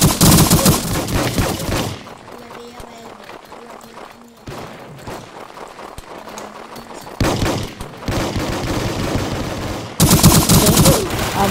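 Rapid shotgun gunfire in the Roblox video game: loud bursts open and close the stretch, with quieter shots and game sounds in the middle.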